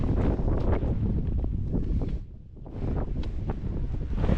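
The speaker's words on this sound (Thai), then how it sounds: "ลมแรงมาก" Strong wind buffets the microphone on a hilltop viewpoint in Kanchanaburi, Thailand. A loud, steady low roar eases briefly near the middle and then gusts back up, with no voices heard.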